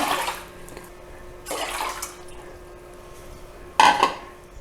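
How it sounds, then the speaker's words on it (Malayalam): Water poured into lentils in a pot for Kerala sadya parippu dal curry, heard as three short splashy bursts at the start, middle and end, with quiet kitchen background between them. "ഇതിലേക്ക് ഒരു കപ്പ് പരിപ്പിന് രണ്ടര കപ്പ് വെള്ളവും കൂടി ഒഴിച്ചു കൊടുക്കണം"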